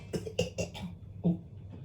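A few short, raspy throat-clearing bursts in quick succession, fairly close and moderately loud, after sifting dusty flour while baking, followed by one more after a brief pause.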